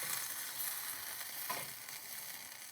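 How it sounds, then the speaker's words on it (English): Tomato sauce and parsley sizzle steadily in a pan while being stirred, a continuous close frying hiss with a faint scrape around the middle, no voices. "And then stir attentively."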